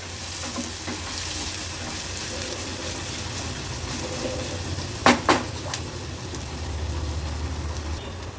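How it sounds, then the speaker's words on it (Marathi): Chopped onion cooks on a low gas flame with a crushed ginger, garlic and green chili paste for a traditional Alibaug vegetarian thali, giving a soft, continuous sizzle broken by a couple of sharp utensil clinks partway through. "गॅसची फ्लेम लो करून कांदा आपल्याला व्यवस्थित शिजवून घ्यायचा आहे।"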